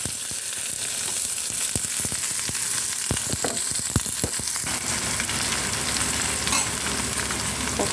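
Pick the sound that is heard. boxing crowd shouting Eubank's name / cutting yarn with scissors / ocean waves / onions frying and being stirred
onions frying and being stirred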